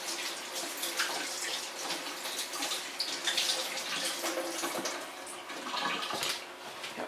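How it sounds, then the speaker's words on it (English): Tap water runs steadily into a sink while hands are washed, with splashing rising and falling, moderately close, without talk. "Then let me wash my hands."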